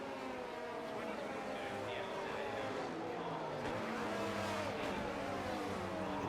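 Race cars perform burnouts while lining up on the grid in a sim racing game at Miami, with several engines revving and droning together continuously at high volume.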